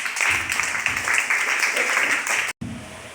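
A church congregation applauds in praise, dense continuous clapping filling the room, breaking off abruptly near the end before resuming.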